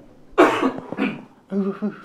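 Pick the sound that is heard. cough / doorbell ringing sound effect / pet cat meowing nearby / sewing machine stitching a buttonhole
cough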